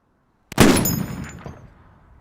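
A single loud, sharp rifle shot from a sniper rifle in a film, cracking suddenly from silence and then rolling into a long echoing decay.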